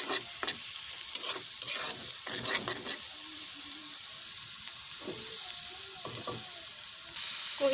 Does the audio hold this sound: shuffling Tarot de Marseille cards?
no